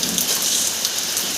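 Steady, dense rain falls during a monsoon downpour in Balangir, a continuous close hiss of drops on surfaces with no pauses and no voices.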